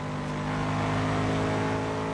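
Bugatti Veyron Super Sports hypercar engine droning steadily in Forza Horizon 2, a loud sustained tone with layered harmonics and no pauses, as though holding speed.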